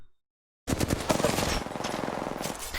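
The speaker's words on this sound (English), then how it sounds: "After shooting a couple shots, I realized I'm not going to be able to handle them by myself" Rapid automatic gunfire from the battle royale video game Apex Legends bursts in after a short silence and rattles on continuously, close and loud.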